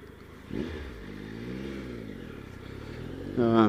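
A new motorcycle fitted with engine guards, skid plate and fog lights rides along, its engine humming steadily with rising and falling revs before a sharper throttle burst at the end; no talk.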